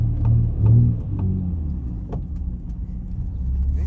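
An Infiniti G35 drives off after warming up, its engine rumbling low and steady close by, with a few brief knocks and swells in the drone along the way.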